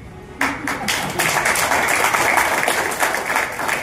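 An audience at a Human Rights Day gathering breaks into sudden applause, a dense and fairly loud patter of many hands clapping that carries on steadily without letting up.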